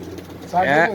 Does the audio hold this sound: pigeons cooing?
yes